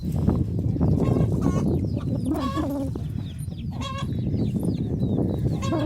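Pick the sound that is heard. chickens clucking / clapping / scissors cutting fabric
chickens clucking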